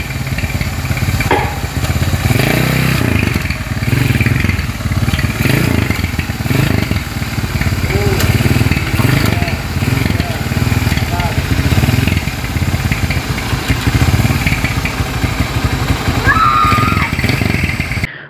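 A Honda GL Neotec motorcycle engine with a humming clutch runs steadily for the whole stretch, a loud, continuous mid-pitched drone with mechanical clatter, while people talk over it.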